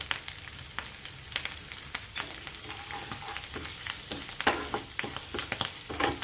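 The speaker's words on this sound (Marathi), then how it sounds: "त्याच्यात कढीपत्ता टाकते कढीपत्ता हा ऑप्शनल आहे" Whole curry leaves crackle and spit in hot oil in a pan, a dense sizzle broken by sharp popping bursts and occasional stirring scrapes, close and fairly loud.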